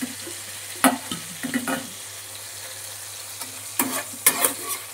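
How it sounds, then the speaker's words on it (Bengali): Chopped garlic is fried with soft okra in a pan for dharos bharta, with a faint steady sizzle and a low hum, broken by scattered spoon scrapes and stirring clatters. "এবার আমি দিয়ে দিচ্ছি রসুন কুচিটা।"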